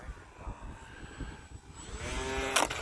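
An RC plane on a windy landing approach at about quarter throttle, its propeller a thin, wavering whine under gusty wind rumble. A brief sharp burst near the end could be the touchdown.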